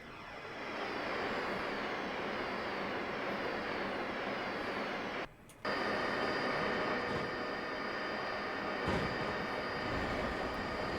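A train runs in the Train Simulator 2021 game on the Farringdon to Birmingham route, with a steady loud rumbling drone and a brief dip in the middle, then continuing evenly.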